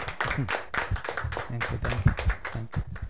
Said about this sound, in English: Let us all give him a big clap.